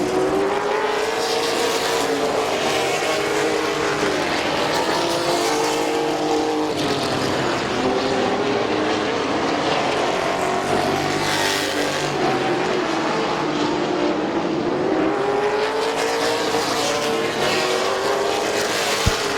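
Race trucks roar around the oval at Midvale Speedway, engines droning loud and continuous with pitch rising and falling as they pass through the turns, and no voices over the engine noise.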